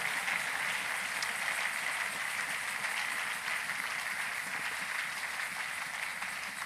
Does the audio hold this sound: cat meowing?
no